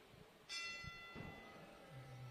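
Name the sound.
boxing match bell ringing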